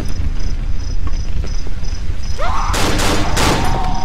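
Gunfire from a hunting rifle in the horror video game Cry of Fear, a couple of loud sharp blasts with broad crackling bursts near the end, over a steady ambient game backdrop.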